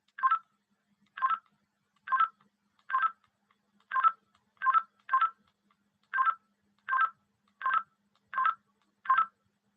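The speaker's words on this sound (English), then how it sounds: "this sound that you're hearing is actually what they call encryption" Twelve short, evenly spaced electronic tone bursts from a DCS encrypted radio signal, clean and isolated against near silence, pulsing in a steady rhythm about one beat per second.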